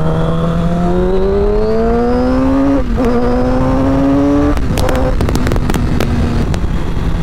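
Yamaha R6 sport motorcycle engine revving hard toward 18,000 rpm, a loud screaming note climbing steadily, dipping briefly, then climbing again before sharp crackling pops and bangs as the revs drop.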